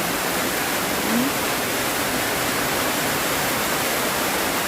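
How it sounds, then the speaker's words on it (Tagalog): Rainwater gushes steadily from a clogged drain beside a garage, a dense, continuous rushing flow like a small waterfall, close and unchanging throughout, with no voices. "So ito yung tubig mga ka-taker, umaagos talaga siya oh"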